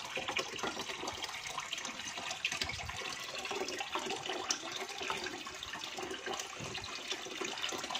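Water pours continuously into a common snapping turtle's tank as it is refilled after cleaning, a loud, steady rushing gush throughout with no pauses.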